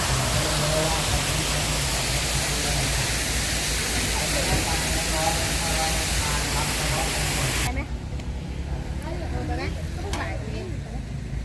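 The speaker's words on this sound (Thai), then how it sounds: "ตามมาดูน้ำตก" A waterfall's loud, steady roar of rushing water fills the scene, thinning out suddenly partway through as the dense wash drops to a softer hiss.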